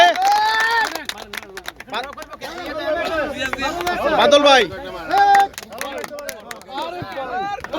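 An audience applauds at the opening ceremony of a village football match in Munshiganj, Bikrampur, with a dense patter of clapping running under loud, overlapping voices from a crowd outdoors.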